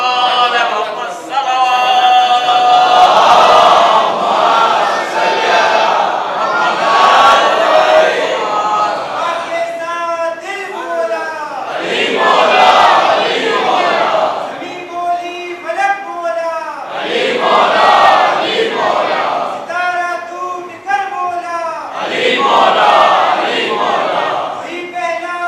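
A large crowd at a religious majlis chants slogans in loud, rhythmic waves, the massed voices rising and falling in repeated phrases, close and sustained throughout.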